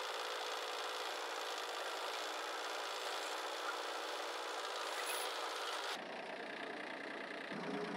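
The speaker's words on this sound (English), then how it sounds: "I wanted to do it by myself, so I used my tractor" A tractor engine drones continuously, close and fairly loud, with a rough mechanical texture that shifts and drops in tone near the end.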